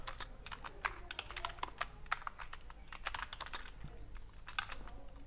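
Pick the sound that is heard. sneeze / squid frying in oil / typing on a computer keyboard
typing on a computer keyboard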